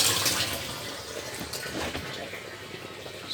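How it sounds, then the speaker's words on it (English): A small solar-powered water pump pushes water around, giving a continuous gushing, splashing flow at moderate volume with no one talking. "And here's the pump, delivering the water,"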